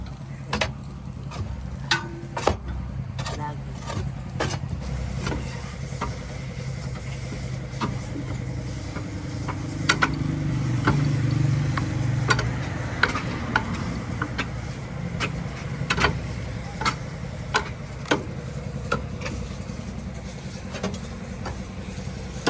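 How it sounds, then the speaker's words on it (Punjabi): A tractor pulling a trolley loaded with soil gives a steady, low engine drone with a faint rhythmic ticking on top, holding fairly even throughout. "ਜੇ ਟਰੈਕਟਰ ਦੀ ਹਿੰਮਤ ਇੰਨੀ ਮਿੱਟੀ ਲੈ ਕੇ ਲਗਾ ਫਿਰਿਆ ਨਾਲ ਨਾਲ।"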